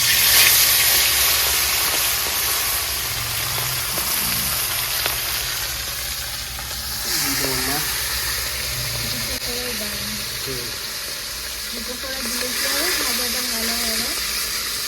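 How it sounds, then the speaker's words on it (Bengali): Tilapia fish sizzles and hisses continuously while frying in hot oil, a steady close crackle throughout with a person talking over it. "আমি মাছটা ভেজে নেবো।"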